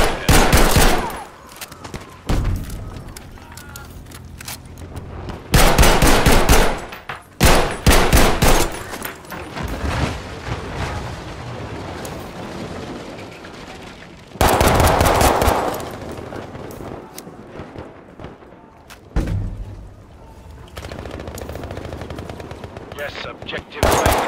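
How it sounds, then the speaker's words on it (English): Battlefield V multiplayer combat with bursts of enemy machine gun fire and other gunfire, loud and close, coming in several heavy volleys between quieter stretches, with some voice underneath. "There's an enemy machine gunner over there."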